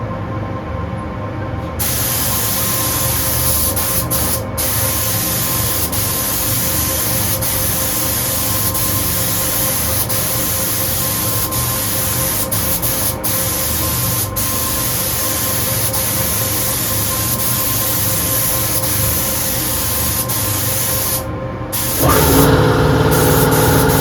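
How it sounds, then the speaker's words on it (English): A spray gun applying a sealer coat to a guitar neck in a finishing workshop: a steady, loud hiss that runs continuously for about twenty seconds before cutting off. "So we're just going to spray 2 coats now."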